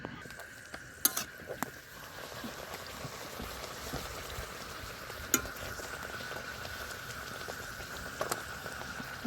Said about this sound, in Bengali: এবার লুচি ভাজবো। তার জন্য কড়াই গরম হয়ে গেছে